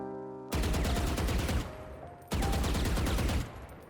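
Vandal rifle sprays in Valorant: two sustained automatic bursts of rapid, loud shots, each lasting about a second, separated by a short pause.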